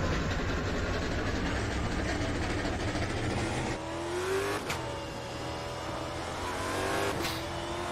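A Stock Car Brasil 2020 race car engine in the sim game Automobilista 2, at Hockenheimring, runs with a steady, loud hum that shifts pitch partway through, with a few brief revs.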